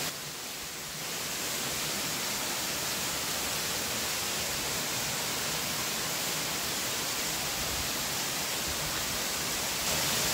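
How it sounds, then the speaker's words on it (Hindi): A hidden waterfall among the mountains of Jibhi roars as a dense, continuous rush of water, loud and steady throughout with no voices. "बहुत ही बढ़िया यार पहाड़ों के बीच में छुपा हुआ वाटरफॉल है"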